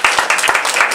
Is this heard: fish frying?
no